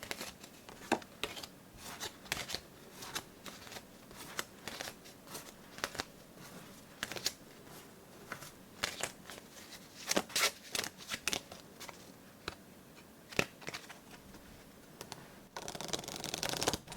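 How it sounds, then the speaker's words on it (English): Playing cards shuffled and handled for an open solitaire game, a quiet series of crisp snaps, riffles and soft taps scattered irregularly, ending in a brief denser flurry, close up and intimate. "We will take all the cards, reshuffle, and try again."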